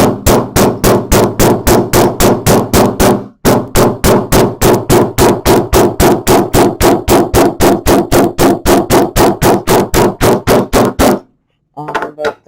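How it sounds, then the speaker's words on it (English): A hammer pounds a leather-vinyl seam flat through a protective muslin cloth, a fast, steady run of loud, close thuds in two long bursts with a short pause between them. "You can also use a hammer."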